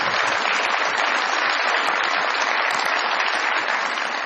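Studio audience of a television comedy talk show applauding to welcome a political guest, a dense, loud, even wash of clapping that holds steady for about four seconds without talk.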